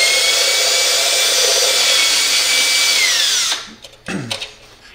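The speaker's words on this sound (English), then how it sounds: "drill into the light" A power drill bores into the housing of an explosion-proof bug-eye LED emergency exit light, running loud and steady with a whining pitch, then winding down and stopping, followed by a few short handling knocks.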